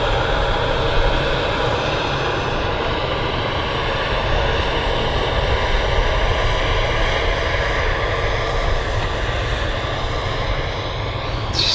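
An Air Portugal airliner taxis out at Manchester Airport, its jet engines producing a steady, loud, broadband roar that holds constant for around twelve seconds with no voices over it.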